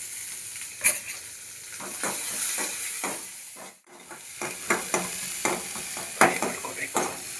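Chopped onions fry with cumin seeds in hot oil, a close crackling sizzle with repeated scraping stirs, briefly dipping to near quiet midway, no speech.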